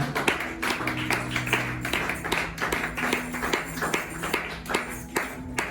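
A church congregation claps in a steady, rapid rhythm while acclaiming the Lord, the sharp hand claps close and continuous with a sustained tone humming underneath.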